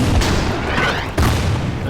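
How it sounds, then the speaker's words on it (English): Artillery strikes from the Order of Battle strategy game, Winter War at Tolvajarvi, land as two loud, close booms about a second apart over a rough, noisy rumble. "So what we'll do is we'll target this guy with artillery."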